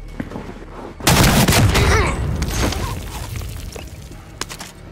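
Gunfire in a Call of Duty match, a sudden loud volley that breaks out and rattles on amid explosions and game noise, with players talking.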